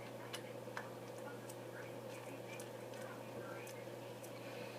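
A ratcheting wrench fitted with a Torx T27 bit, used on a SIG MCX barrel screws, gives a few faint, sparse ticks and clicks over a steady low room hum.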